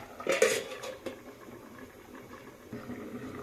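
Lid set onto a cooking pot of chopped eggplant, a couple of sharp metallic clanks near the start followed by quiet rattles and a low simmering background, close by.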